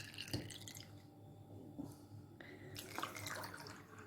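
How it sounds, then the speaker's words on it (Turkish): Water filling a hot water bottle, about one litre, with gurgling pours, drips and hollow splashes at close range, fairly quiet and uneven in rhythm. "Evet 1 litre suyumuzu doldurduk."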